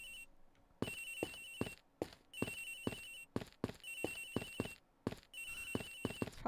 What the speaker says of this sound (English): Oh my god, her phone's so cute. It's ringing from somewhere.